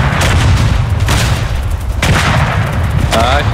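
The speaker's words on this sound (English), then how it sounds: "I've been blown up." Loud booming explosions on a World War I battlefield in Verdun, several heavy blasts in succession amid gunfire, close and harsh.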